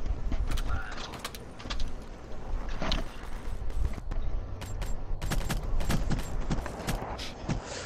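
Rapid gunfire from a first-person shooter video game in an online wager match, dense bursts and sharp shots throughout, with players talking over the shooting.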